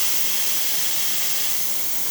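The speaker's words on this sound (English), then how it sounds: "Excellent steam coming out of the machine." A Quick Mill espresso machine's steam wand releases a loud, continuous hiss of steam, steady and close, heard alone without any talking.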